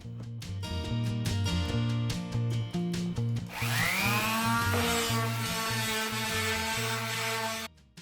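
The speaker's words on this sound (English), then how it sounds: "I'm sanding each board just to soften all the corners and edges on it." A power sander works over wooden boards to soften their corners and edges, a steady loud whirring grind with shifting pitch as the tool moves across the wood, running continuously before stopping near the end.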